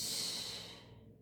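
A single long exhaled breath during a yoga stretch, a soft airy whoosh close to the microphone that fades out near the end.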